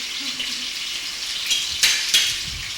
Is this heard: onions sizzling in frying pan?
yes